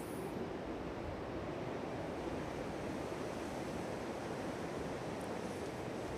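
Strong gusts from Storm Éowyn sweep across the airfield at East Midlands Airport, a constant loud rushing roar buffeting the microphone without letup, no voices.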